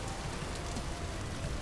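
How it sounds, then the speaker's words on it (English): Rain in the video game Vintage Story, a soft, even hiss of falling drops on the ground that stays steady and faint throughout the short stretch. "Is it also raining in the old area now?"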